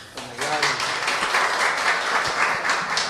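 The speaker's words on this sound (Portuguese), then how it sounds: "uma salva de palmas para ele" An audience at a university lecture gives a round of applause for a professor, steady dense clapping that rises quickly and holds for a few seconds, moderately loud, with a voice briefly audible at the start.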